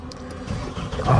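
A vehicle's engine cranks with a faulty starter and catches, a short rough mid-pitched churn building to a louder burst as it fires, close and alone.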